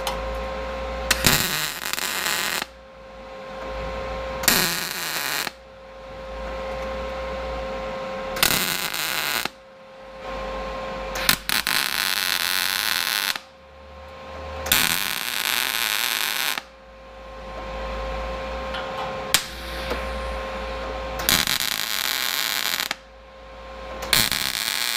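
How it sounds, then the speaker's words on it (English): Steel tube fender flares for a Jeep XJ are welded in a series of regular bursts, each a few seconds of steady buzzing and crackling, separated by short pauses, with a constant electrical hum throughout. "But let's get welding this in."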